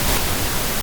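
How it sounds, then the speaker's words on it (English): Pink noise from an Equator 2 synth's noise generator: a brief, steady, dense hiss spanning the whole range, uniform and loud with no rhythm. "we have a noise generator. So this is just you want to add pink noise,"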